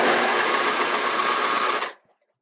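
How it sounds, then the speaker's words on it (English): The electric starter on an MTD 5hp snowblower cranks with a loud, harsh, buzzing whir. It holds steady for nearly two seconds, then cuts off abruptly into silence. "That god-awful sound you just heard was the starter."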